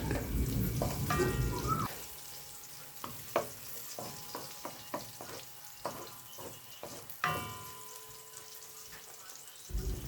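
Garlic frying in a pan before seafood is added, heard as a soft sizzle under a run of sharp scrapes and clacks of a utensil stirring against the pan.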